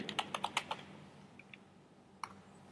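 Code being typed on a computer keyboard: a quick burst of close key clicks at the start, a couple of isolated taps, then a final short cluster of keystrokes, with no talking.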